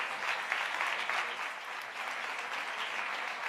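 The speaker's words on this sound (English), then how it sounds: "give them another round of applause" Soft applause from a summit audience for a departing panel, a continuous patter of many hands clapping at a moderate distance, steady throughout with slight rises and dips.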